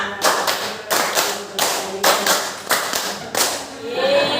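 A classroom group of children claps a counted rhythm pattern twice through, around eight or nine sharp ensemble claps in steady groups, close and clear with little else around them.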